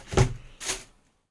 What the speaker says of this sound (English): I moved my microphone.